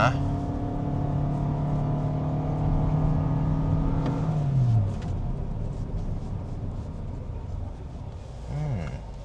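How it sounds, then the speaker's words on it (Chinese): Toyota Vios GRS hybrid with eCVT accelerating uphill, a steady engine and motor whine that rises in pitch, then drops off midway into a rougher road rumble, while a person talks over it. "那么现在我们再来试多一个加速 上坡可能会有点慢"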